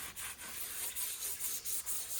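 A brush scrubs the inside of a home oven in quick back-and-forth strokes, a close, steady abrasive rubbing with a regular rhythm of short pauses between passes.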